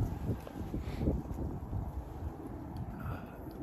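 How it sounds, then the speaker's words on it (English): Gusty wind of about 15 mph buffets the microphone on a cold, snowy Wisconsin day, with low, uneven rumbling and rustling, fairly quiet and continuous with no voices. "it's really windy and really cold"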